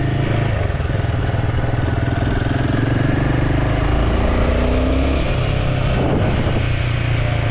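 A Royal Enfield Himalayan 452 motorcycle engine runs loud and close, a steady rumbling idle with a constant rough throb throughout and no one speaking.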